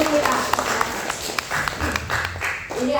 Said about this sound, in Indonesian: Beri tepuk tangan dulu untuk guru kita.